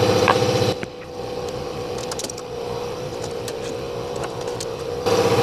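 Power tool running out engine bolts during a cam and lifter change, a steady close mechanical whir through most of the clip, with a louder compressor hum at the start and end.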